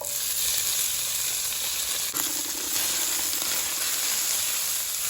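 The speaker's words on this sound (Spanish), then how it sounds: "Ya que se caliente bien la manteca, freímos el pollo." Pieces of chicken fry in hot lard with a constant, bright hiss and sizzle close up, plus a brief clunk partway through and a low hum after it, with no talking.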